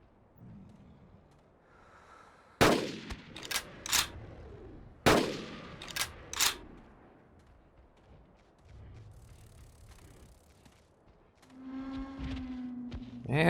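Gunshots in the hunting game Carnivores: Dinosaur Hunt: two bursts of loud, sharp rifle reports, each followed by quick follow-up shots, then quieter ambient outdoor sounds and a low tonal call near the end.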